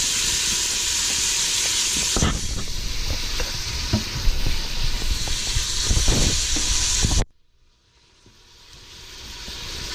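Thin beef strips sizzling and browning in an Instant Pot, a loud, close, steady frying hiss with occasional stirring clatter, cutting off abruptly near the end before faint noise returns.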